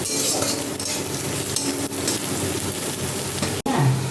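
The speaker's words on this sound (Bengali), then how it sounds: "পেঁয়াজটা গোল্ডেন করে একদম ভাজা হয়ে গেছে" Onions fry golden in a pan with a dense, steady sizzle and the scrape of stirring, heard up close with no talking.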